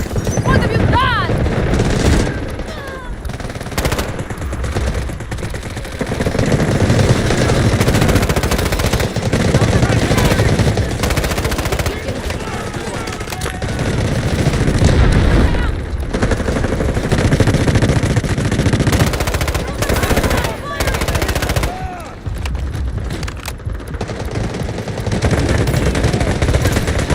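Submachine gun fire rattles in the video game Delta Force, in repeated rapid bursts with short gaps, loud and close, mixed with other battlefield sounds and game voice lines.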